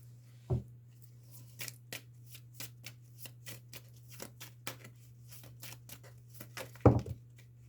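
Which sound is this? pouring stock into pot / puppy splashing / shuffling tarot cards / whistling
shuffling tarot cards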